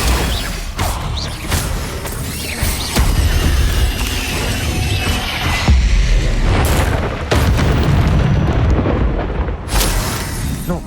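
Incendio fire spells cast in the video game Hogwarts Legacy: loud, dense, roaring bursts of flame and impact booms layered over a busy combat soundscape, with several sharp whooshing blasts across the stretch.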